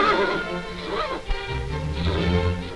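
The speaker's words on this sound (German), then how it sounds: "Nach der schweren Schlammperiode haben die Pferde der Nachschubkolonnen wieder etwas Ruhe." Horses of a WWII German supply column rest near Leningrad after a heavy mud season, with a close whinny rising and falling over low snorting and shuffling, fairly loud and alone.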